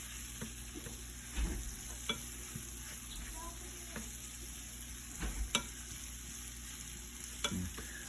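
Venison fries softly in a pan with homemade butter, a quiet steady sizzle broken by a few scattered clicks of stirring.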